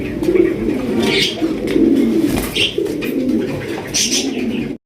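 Lahori pigeons, including a black one, coo steadily and close by, with overlapping throaty calls and a few higher chirps throughout.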